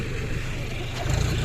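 A John Deere 5105 4x4 tractor engine runs steadily while rolling down a slope, a loud close low diesel rumble with a rising throb near the end.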